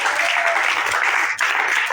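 A church congregation breaks into applause in praise of the Lord: a dense, steady wash of clapping that fills the whole moment, with a brief dip partway through and faint voices mixed beneath.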